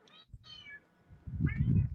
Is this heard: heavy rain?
no